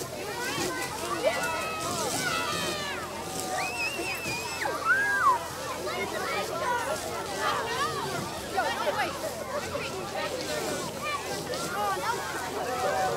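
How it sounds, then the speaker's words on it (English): A fire hose sprays water into a burning room during a fire department closed-door demonstration in Easton, a steady rushing, sloshing hiss that runs the whole time with faint voices in the background. "Now our fire hose is going in"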